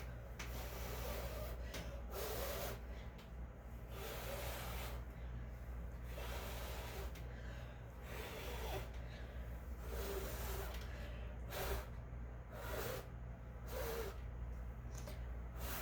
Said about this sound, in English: I'm going to blow it around a little bit